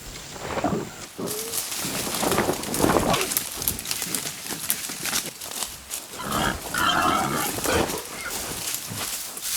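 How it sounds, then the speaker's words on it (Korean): Young wild boar piglets grunt and snuffle repeatedly in an autumn forest while foraging for acorns and chestnuts near the lead adult, in a busy, continuous outdoor scene of close, moderately loud rooting noises. "예민한 후각으로 경계를 하는 새끼 멧돼지들."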